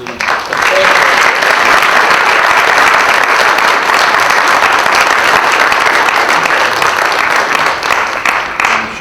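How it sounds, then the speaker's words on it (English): A large event audience gives a professor a loud, sustained round of applause after a talk, many hands clapping in a thick, steady roar that starts abruptly and holds evenly throughout. "I think we can give another round of applause to the professor"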